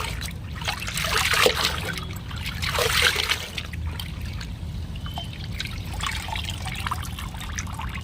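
Water trickles and splashes steadily while cotton nighties are washed by hand, with a few louder pouring swells near the start over a constant low background rumble.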